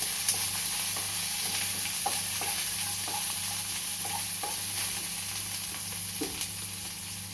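Vegetables for a diabetic-friendly millet ramen sautéing in a hot pan: a continuous close sizzle with a series of spatula stirs and scrapes clicking through it.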